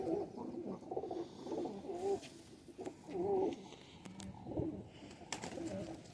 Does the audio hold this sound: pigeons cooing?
yes